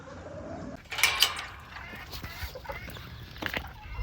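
Old English game fowl and small silver roosters in a coop give brief bird calls and squawks, loudest near the one-second mark, with a few scattered calls afterward over a low, steady background.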